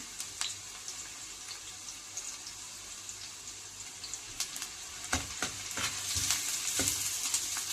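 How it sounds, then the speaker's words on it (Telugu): Onions fry until light brown, a steady sizzle with crisp crackles and sharp stirring clicks that grow busier toward the end, with no speech. "దోరగా వేయించేసుకున్నాం ఫస్ట్ ఆనియన్స్ని"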